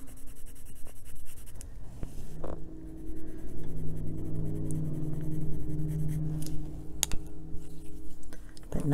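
Colored pencils stroked across paper, soft scratchy scribbling in bursts of back-and-forth strokes, close and quiet, with small taps and no talking.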